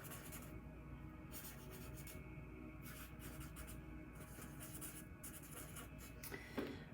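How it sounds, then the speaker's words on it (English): Pen scratches on paper in short, faint bursts of rustling strokes with small pauses between them, close to the listener in a quiet room. "So I'm writing that down."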